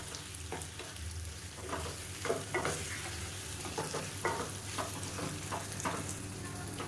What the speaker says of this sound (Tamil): அந்த சிக்கன் அப்படியே சேர்த்துக்கணும் சேர்த்துட்டு நல்லா வதக்கி விட்டுக்கலாம்